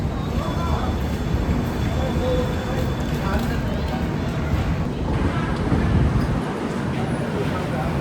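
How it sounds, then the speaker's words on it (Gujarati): A train rumbles steadily at Jammu railway station, a loud continuous low roar with a murmur of indistinct voices in the background. "જંબુ રેલવે સ્ટેશન આવી ગયો હવે."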